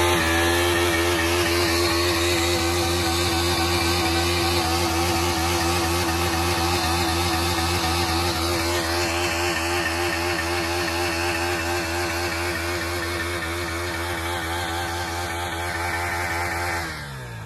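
A KTM Duke 250 motorcycle engine is held at high revs during a tyre burnout, making a loud, sustained, buzzing drone that wavers slightly in pitch and eases near the end. No one speaks.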